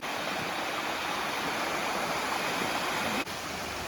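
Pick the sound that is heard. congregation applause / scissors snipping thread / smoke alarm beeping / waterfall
waterfall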